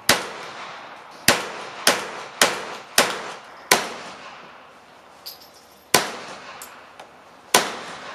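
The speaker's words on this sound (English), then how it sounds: "So we're gonna shoot two 22s." Shots from .22 caliber guns fired outdoors in British Columbia, nine sharp cracks at irregular intervals, each with a short decaying echo, loud and close with no talking.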